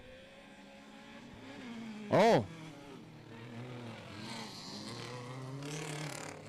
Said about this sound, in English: Listen to the engine rave, and off they go.